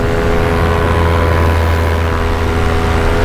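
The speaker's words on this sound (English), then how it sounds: "Maybe it'll help if I do this and quiet the engine down a bit" An aircraft engine runs steadily in flight, a loud, continuous droning hum with stable tonal lines, heard close and alone, with no one speaking.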